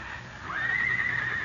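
A pony's whinny rises sharply and holds a long, bright, wavering call over a low background hum, used as a radio drama sound effect in a Western setting.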